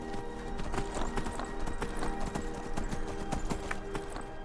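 Rapid, steady clip-clop of horse hooves close by in the video game Skyrim, with a faint whinny under the rhythmic beats.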